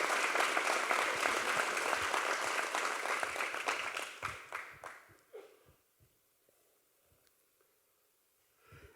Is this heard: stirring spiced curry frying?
no